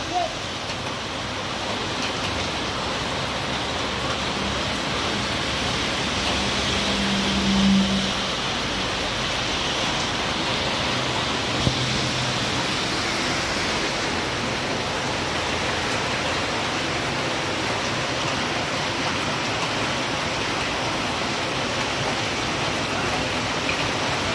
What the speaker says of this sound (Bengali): এমন বৃষ্টি হচ্ছে সেই আপনারা দেখতে পাচ্ছেন, পুরা বৃষ্টি বৃষ্টি।